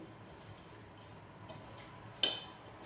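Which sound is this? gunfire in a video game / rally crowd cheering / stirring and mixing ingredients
stirring and mixing ingredients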